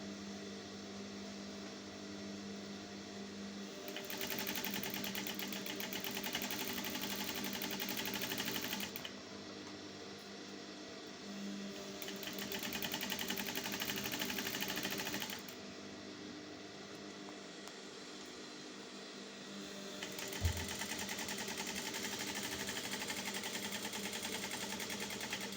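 Sewing machine stitching the seam that joins a dress skirt, a steady mechanical whir running in long bursts with brief pauses between passes, close and fairly loud with no talk.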